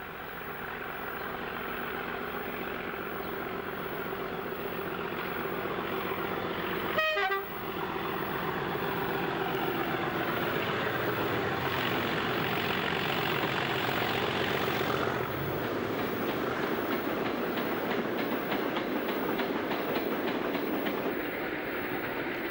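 Diesel locomotive hauling an empty ballast train in Cornish china clay country, a heavy engine drone and rolling rumble with a brief horn blast early on, the sound shifting as the train passes.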